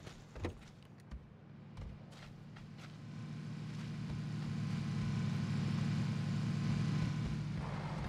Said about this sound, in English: There's a car coming our way.